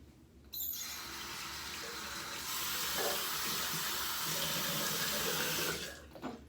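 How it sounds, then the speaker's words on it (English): Running tap water splashes at a sink during a wet shave with a Gillette razor, a steady close rush of water with brief sloshing as it is splashed onto the face, no talk. "Splash a little bit more water on my face just to keep it moist."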